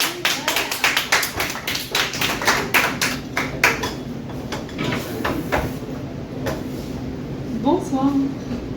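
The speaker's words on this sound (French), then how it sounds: "Bonne main d'applaudissements pour Sophie Cardin." A cabaret audience applauds a performer with a burst of close, dense clapping that thins out over several seconds, leaving scattered claps and room murmur.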